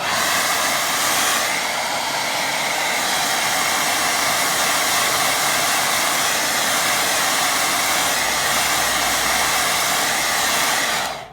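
A hair dryer blows on watercolour paint with a loud, continuous whooshing hiss. It runs steadily for about eleven seconds, then cuts off abruptly.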